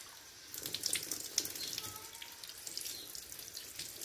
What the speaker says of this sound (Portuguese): Eu vou pegar um pouquinho de água aqui